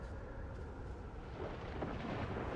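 Deep rolling thunder from a lightning strike in the space exploration game Outer Wilds, a broad low rumble that swells slightly toward the end, with no voices.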